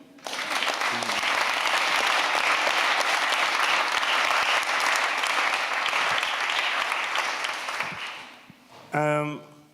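Sustained, dense audience applause fills the hall for a speaker being introduced at a democracy conference in Utrecht, fading near the end before a brief voice.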